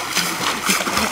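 A person splashes while swimming in water in a forest campsite setting, a short churning burst of close, loud splashing with people's voices faintly mixed in.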